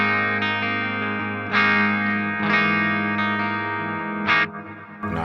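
Distorted electric guitar chords ring out through a reverb pedal with a washy, spacious tail, struck a few times and left to sustain.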